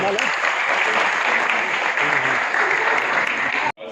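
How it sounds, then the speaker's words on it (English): Audience applause at a press conference for The Lord of the Rings: The Rings of Power, a full, sustained burst of clapping with crowd murmur that cuts off abruptly near the end. "So can we have a round of applause for everybody?"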